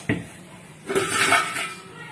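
Metal cookware clanks once, then a cluster of clinks and scraping as Chettinad stacking pots are shifted and stacked nearby, with a voice faintly underneath.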